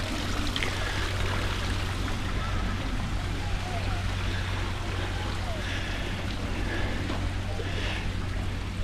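Water seeping and trickling from a natural reservoir at Chatsworth that needs repair, a steady broadband wash with a low hum beneath it, continuous and moderately close.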